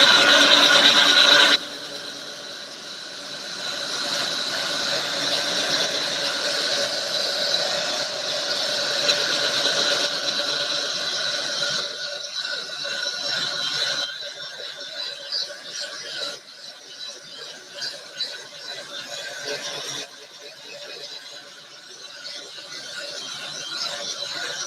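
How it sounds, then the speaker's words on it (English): A heat tool dries ink on a t-shirt with a steady, airy whirring hum that holds at a moderate level after a brief louder start, with no one talking. "I'm going to use my heat tool just to kind of dry the ink before we set it"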